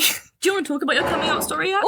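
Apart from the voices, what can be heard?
sneeze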